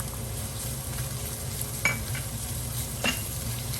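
Garlic and onion sauté in a hot pan, a constant close sizzle broken by two brief scrapes of a stirring utensil.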